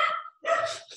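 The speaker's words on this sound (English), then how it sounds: "I have a couple of dogs, as you can probably hear in the background." Two sharp barks from dogs in a home, loud and near with a brief gap between them, heard during a lecture on cosmic microwave background lensing.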